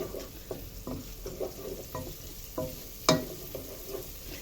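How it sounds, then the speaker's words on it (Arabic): Onions sauté in a pan on the stove for a kabsa, a quiet steady sizzle punctuated by rhythmic scrapes of a stirring utensil and one sharper clack. "معايا البصلية اهي هنشوحها مع بعض"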